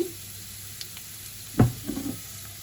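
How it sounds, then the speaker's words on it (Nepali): Garlic and dried chillies fry in hot oil for a Nepali rayo ko duku dish, a soft steady sizzle with a sudden louder hiss and crackle in the middle as chillies are stirred in, close and without talk. "अब हाम्रो लसुन चाहिँ खैरो खैरो हुँदाखेरि चाहिँ सुकेको खोर्सानीलाई फुराइदिने।"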